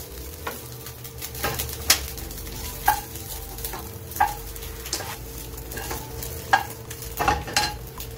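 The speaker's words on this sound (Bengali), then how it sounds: "চিকেনগুলো হয়ে গেছে ভাজা, এবার আমি এগুলোকে উঠিয়ে রাখবো।" Chicken pieces frying in a pan, a soft constant sizzle broken by sharp clicks and scrapes of a utensil stirring and lifting the meat, with no talking.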